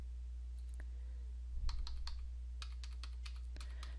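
Light typing on a computer keyboard, a scattered run of soft key clicks with short pauses, close and fairly quiet over a low steady hum.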